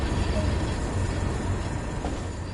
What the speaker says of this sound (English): With the train now moving, it's possible to apply more power and focus on achieving a desired speed.